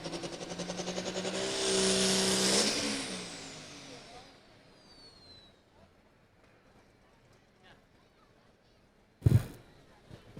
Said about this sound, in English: Here is Jay Schaefer out of Troy, Missouri, with the tractor he calls Second Time Around.